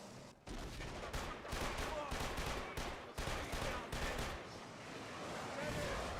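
Dense, rapid gunfire and explosive bursts from rocket soldiers in the Killzone 2 video game crackle and thump almost continuously, with brief pauses between volleys.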